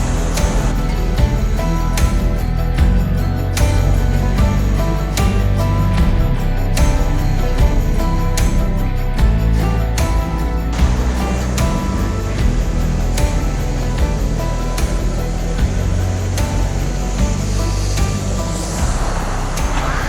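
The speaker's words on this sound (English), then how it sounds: "Just down here behind me, there's a few more rapids." Rushing river rapids below a waterfall in the Otways, a steady, loud broadband roar of churning water close by, with faint knocks and handling noises on top.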